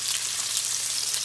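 Steak frying on top of hot oil in a pan, a steady, dense sizzle that stays close and fairly loud throughout, with no talking.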